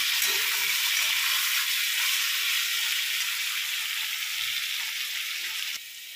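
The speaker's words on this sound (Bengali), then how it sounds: "আলুটা যতক্ষণ না একটু ভাজা ভাজা হচ্ছে ততক্ষণ নাড়তে চাড়তে থাকবো।" Potatoes seasoned with salt and turmeric fry in a pan, giving a steady, close sizzle that holds evenly throughout while they are stirred, with no voices.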